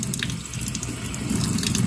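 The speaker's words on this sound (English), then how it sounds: "So let's turn on the water." Running water from a tap turned on for handwashing before a surgical scrub demonstration, a steady close splashing flow into a sink with no talk.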